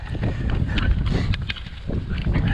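Gusting headwind buffets the microphone of a runner doing hill laps up San Marino, a continuous loud low roar with rhythmic footfall thumps mixed in.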